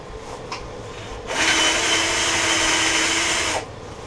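Wood lathe cutting a black walnut salad bowl, a loud steady grinding cut of about two seconds starting after a quiet lead-in, then stopping abruptly.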